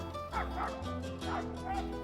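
A dog in a Spanish town plaza gives several quick yappy barks and whines at a steady pace, heard over continuous low hum and background noise.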